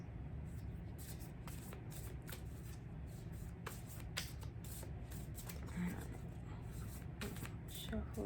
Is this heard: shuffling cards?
yes